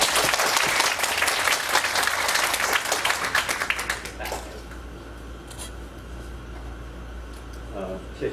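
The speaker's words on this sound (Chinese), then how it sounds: "我们鼓掌欢迎郭成文郭老师" A small indoor audience of about thirty at an NGO eco-city workshop claps warmly for roughly four seconds, dense and close, then the applause fades into quiet room noise with a few faint sounds.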